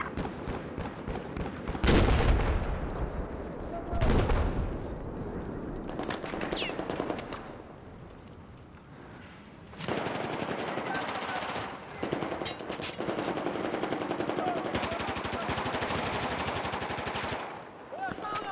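Bursts of automatic gunfire and heavy shooting from a Battlefield 4 multiplayer match, loud and close with a thumping blast near the start, continuing in dense rattling volleys throughout.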